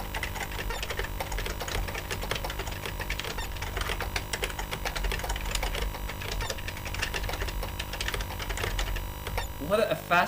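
Keys clatter in a dense, steady stream of quick clicks on the keyboard of an SB-2000 Famicom clone computer, close and continuous under a busy background, with a brief louder burst near the end.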